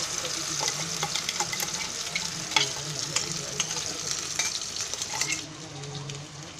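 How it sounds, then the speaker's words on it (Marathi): Ground wet masala hits hot oil in a pan for chole bhaji, hissing and crackling in a steady sizzle with occasional stirring scrapes, close and continuous before easing slightly. "हे आता वाटलेला मसाला आहे ना हा सर्व, तो आता त्याच्यामध्ये तेलामध्ये पहिला टाकायचा"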